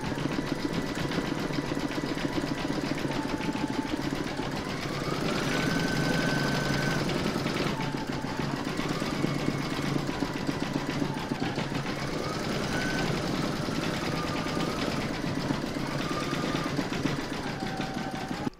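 An embroidery machine stitches steadily with white thread, sewing a pencil case in the hoop; the motor hums evenly, with needle clatter and shifting pitch as it moves between stitches.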